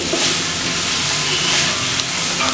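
Onion with ground paste sautéing in a hot pan, a loud, steady hiss and sizzle close up with no one talking.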